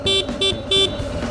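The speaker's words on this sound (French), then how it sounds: "Allez, 3 petits coups de klaxon." A motorcycle horn honks three short times, close and loud, the bursts evenly spaced with the last slightly longer, over a low engine rumble.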